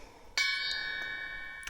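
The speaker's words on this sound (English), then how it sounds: "then I'm going to walk up around with my bell and do some cleansing like that as well" Tibetan bell struck during a spring equinox sound cleansing ritual, a bright clear ring with a long sustained shimmer, followed by two softer strikes, close and alone.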